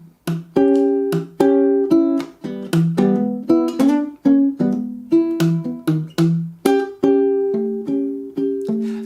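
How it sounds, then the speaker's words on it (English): Short, palm-muted ukulele notes thump in a steady rhythmic pattern, their tone muffled and quickly cut off. "It gives you this muffled sound."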